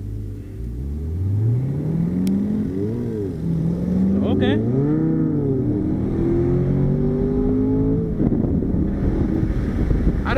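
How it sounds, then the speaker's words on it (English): A car engine revs up and down beside a C7 Corvette Grand Sport on the road, loud rising and falling pitch sweeps over wind rush, with a brief spoken word. "I don't know why he came up and revved beside us."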